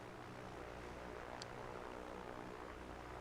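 A general aviation civilian propeller plane drones in a flight simulator game, a faint, steady engine hum throughout with no speech.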